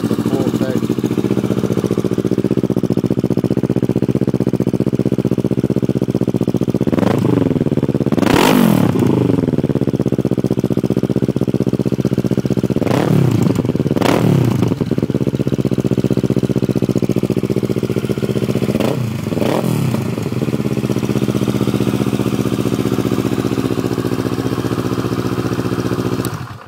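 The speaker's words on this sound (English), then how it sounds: "That was the Yoshimura on a 2009 Kawasaki 650R." A 2009 Kawasaki 650R motorcycle with a Yoshimura exhaust idles loudly and steadily close to the pipe, with three sharp throttle revs breaking the rumble.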